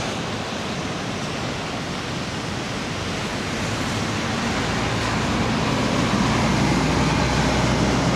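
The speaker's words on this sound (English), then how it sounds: "The ocean is still very close and very strong." Strong ocean surf near Da Nang after a typhoon gives a continuous, dense broadband roar of breaking waves, swelling slightly louder toward the end, with no voices.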